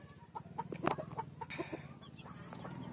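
Young chicks peep and cluck close by in short, repeated chirps over a steady low hum, with one louder burst partway through.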